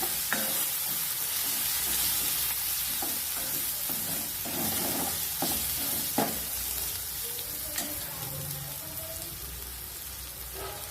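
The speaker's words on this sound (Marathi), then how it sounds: "जिरं हे वाटून घेतलं होतं ते ह्याच्यामध्ये आपल्याला छान तेलामध्ये परतून घ्यायचे" Ground cumin, garlic and green chili sauté in hot oil, a continuous near sizzle broken by repeated clinks and scrapes of a spoon stirring the pan, with no one talking.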